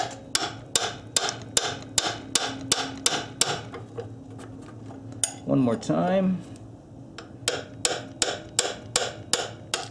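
Steady ringing metallic strikes of a 3-pound hammer on a 17mm wrench, loosening an Acura TL engine mount fastener, repeat in a fast even rhythm, pausing briefly while someone speaks, then resuming.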